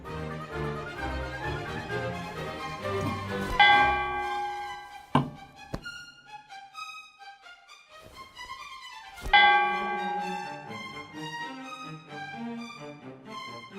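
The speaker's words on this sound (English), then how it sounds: "You can make various bells in the castle ring by pulling it." Castle bells in a point-and-click adventure game ring after a cord is pulled: layered, resonant chimes with several sharp struck onsets that decay into long sustained tones, clear and prominent with no talking.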